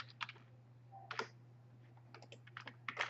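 Keyboard typing and mouse clicks on a computer while drafting a wall layout in takeoff software, scattered bursts of quiet, close keystrokes and clicks over a steady low hum, with no talking.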